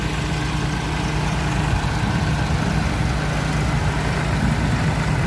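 A farm tractor engine running at about 1000 RPM during groundnut threshing work makes a loud, steady, close low drone with an even idling rumble throughout and no talk.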